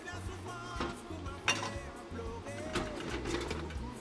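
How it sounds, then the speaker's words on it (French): Dishes clink and clatter as they are loaded into a dishwasher in a home kitchen, with irregular knocks and rattles at close range and a low background hum. "je range juste les choses au lave-vaisselle"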